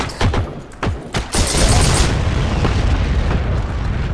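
Booming blasts and rapid gunfire from tank fire in the World War II shooter Heroes & Generals, with several sharp shots followed by a loud, rumbling, sustained explosion that roars on and slowly fades.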